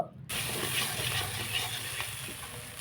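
Chili paste being stirred into tangra fish masala frying in a pan, a steady loud sizzle and hiss with faint scraping, continuous after a brief quiet start.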